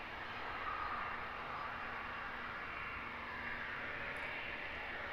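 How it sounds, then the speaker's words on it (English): Small private jet taxiing out at London Luton Airport: a steady, broad engine roar and whine heard from a distance, holding even throughout with no breaks and no voices. "Is that a little private jet I see making its way out?"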